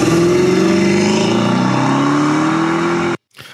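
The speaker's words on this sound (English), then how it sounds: "It's funny how that literally sounds like every other Mopar on the road still to this day." A Mopar car engine on a cold start drones loud and close, holding a steady rev with slowly shifting pitch before cutting off abruptly near the end.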